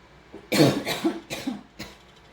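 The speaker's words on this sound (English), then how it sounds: "Still got that cough." A series of harsh coughs, one strong burst followed by three or four shorter hacking coughs, close and fairly loud with no talking.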